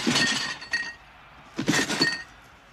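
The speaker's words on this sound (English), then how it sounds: "he heard the sound of broken glass and what sounded like a bunch of crap just thrown in the box" Broken glass jingles and clinks inside a shipped cardboard box in two shaken bursts with a pause between them, with no voices.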